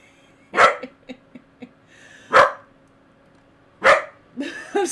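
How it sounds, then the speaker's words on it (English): Bilbo the dog barks in separate bursts: a sharp bark followed by a few softer yips, two more loud barks spaced about a second and a half apart, then a quick pair of closing yaps, fairly close with no talking. "Bilbo, what are you barking at, love?"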